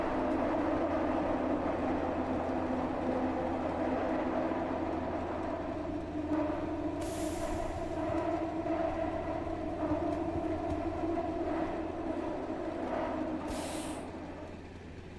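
Train in a game under development: a steady low rumbling drone of rolling rail cars runs throughout, with two brief hissing bursts like air brakes partway through, fading slightly at the end.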